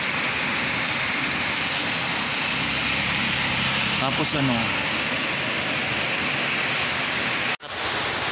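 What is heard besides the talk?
heavy rain from a low pressure storm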